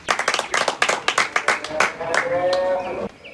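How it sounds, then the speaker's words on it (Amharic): A group of students bursts into quick, dense clapping that fills the first two seconds, then thins out as voices and a brief tonal sound take over near the end. "አሁን ነው ማጨብጨብ።"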